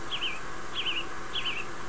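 Three evenly spaced, bright chirps from birds in King's Quest III repeat about every 0.6 seconds, clear above a soft, steady background hum.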